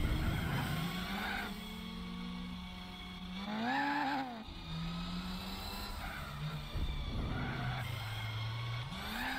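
A Toyota TRD Celica in Gran Turismo 4 revs and downshifts, the engine note rising and falling in several swells, mixed with tire skidding and squealing through corners, loud and close with no voices.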